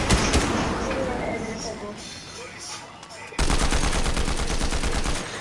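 A flare gun fires in a battle-royale video game, a sharp shot followed by repeated rapid pops under game noise and background voices.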